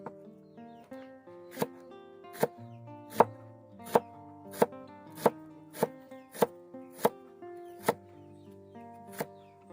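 A knife chopping onions on a board, about a dozen crisp, evenly spaced thuds ringing out alone at a steady rhythm, close by with a quiet pause between each cut.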